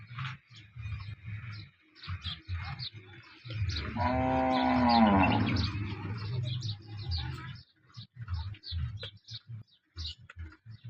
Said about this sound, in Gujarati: ઓલી બે ગાયો આજે નવી આવી છે